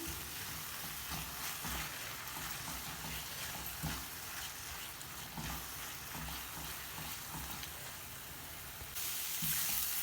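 Masala and tomatoes sizzle steadily in a pan as they fry for stuffed tinda, a continuous close hiss with occasional soft stirring knocks and no talk.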